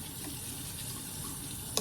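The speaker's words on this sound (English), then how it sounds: "And then I run it under water first." Tap water runs steadily from a faucet as a makeup brush is rinsed beneath it, a continuous close hiss and splash with no talking.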